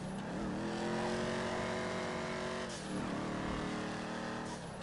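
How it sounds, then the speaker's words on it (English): Turbocharged car engine in GTA V Online, a steady loud revving drone with rising and falling pitch, a brief shift dip near the three-second mark before it picks back up, running continuously without talk. "Can hear the turbo."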